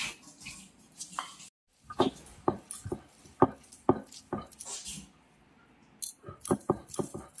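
Fried ingredients are ground by hand on a stone slab with a stone roller, making quiet, irregular scraping and knocking strokes with brief pauses between them.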